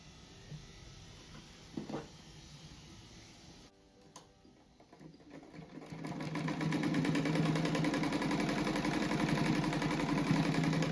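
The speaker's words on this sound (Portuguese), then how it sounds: "Eu vou costurar esses dois aqui junto" A sewing machine stitches two small fabric patchwork blocks together for a scrap rug, starting with a few short handling sounds and then a steady, loud, continuous mechanical whir with rapid needle rhythm, close by with no talking.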